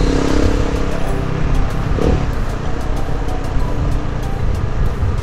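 A TVS Apache 200 motorcycle engine runs with a steady, loud, close rumble, holding a fairly even idle-like drone throughout with a brief tonal shift midway.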